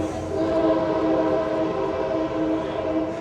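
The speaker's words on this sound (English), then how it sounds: "this is another thing that greets you at the Jack London is the Amtrak train" Amtrak train passing near Jack London Square in Oakland, a sustained tonal rumble with steady horn-like harmonics, moderately loud and continuous for a few seconds, with no talk.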